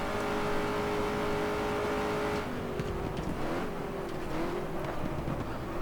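Lotus Cortina race car engine in the racing game GT Legends, a loud steady drone that shifts pitch and thins out as the car pulls away down a straight.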